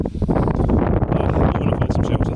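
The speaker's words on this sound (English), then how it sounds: "Windy today, and I haven't got the clip on mic as well" Strong wind sweeps across a cloud-covered hilltop on the South Downs Way and batters the open microphone with loud, continuous rumbling gusts. No voice is heard.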